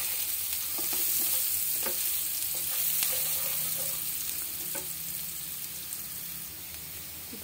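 Chopped onion fries in oil previously used for eggplant, a continuous soft sizzle broken by scattered scraping clicks of a spoon stirring the pan.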